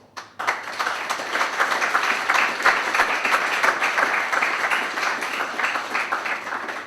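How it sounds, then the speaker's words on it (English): Audience applause after an academic lecture, beginning with a sharp start and swelling into a steady, full round of many clapping hands that carries on at even strength. "Thanks for that clap"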